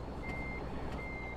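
A truck pulling a semi-trailer gives out reversing beeps in a video game: two evenly spaced electronic tones over a constant low engine hum, faint and steady.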